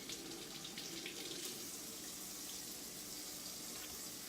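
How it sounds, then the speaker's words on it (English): Water runs steadily from a kitchen tap over fish being rinsed at a sink, a continuous close hiss of flowing and splashing water with no talk. "I still rinse my fish off, even though it comes out of here."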